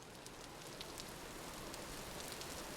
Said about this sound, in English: Well, we got out of the rain.